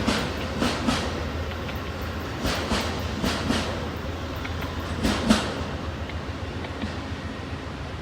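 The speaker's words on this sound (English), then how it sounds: "Get the Amtrak Cardinal here in Thurmond." Amtrak Cardinal passenger train rolling through the Thurmond ghost town, close and loud, with steady rumble and repeated clickety-clack wheel beats over rail joints, no talking.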